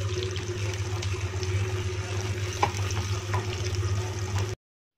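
Shallots, dried red chillies and curry leaves sizzling in hot oil in a pan for a Tamil egg curry, giving a steady, continuous crackle and hiss at close range with no talk.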